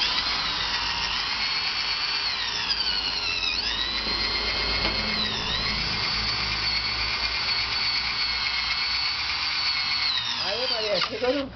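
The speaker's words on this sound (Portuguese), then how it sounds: "Vamos furar aqui pra ver. Vamos ver aqui. É uma parafusadeira" A cordless screwdriver drills a hole, a close, loud, high whine that runs steadily for about eleven seconds with slight pitch dips as it bites, then winds down at the end.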